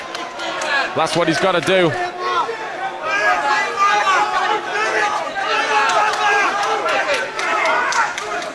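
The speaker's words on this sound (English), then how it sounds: "We can hear the crowd behind us really getting into this one." A lively crowd at an amateur MMA championship fight in the UK roars and chatters loudly throughout, with a voice speaking over the noise near the end.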